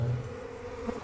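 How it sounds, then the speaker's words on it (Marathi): Honey bees swarm and buzz close around a beekeeper at a hive, a steady, dense droning hum with slight swells in pitch throughout. "माशा थोड्या सोडल्यानंतर त्या पोळीवर स्थिर होतात का नाही हे आम्हाला बघायचं आहे"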